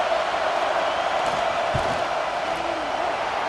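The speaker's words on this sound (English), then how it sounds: "This crowd trying to do its part to get inside the kicker's head." Stadium crowd noise in the College Football 26 video game during a field goal attempt, a steady roar with a faint whoop or two rising from the mass of fans.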